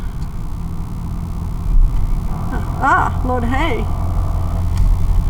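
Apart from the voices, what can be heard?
electric vacuum air pump running on truck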